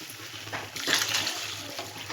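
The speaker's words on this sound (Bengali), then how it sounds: "দিয়ে এবার এটাকে আমরা একটু নাড়াচাড়া দিয়ে এর মধ্যে জল দিয়ে দেব।" Water poured into a pot of rice for khichuri, a soft splashing pour that swells and then sloshes steadily for a couple of seconds.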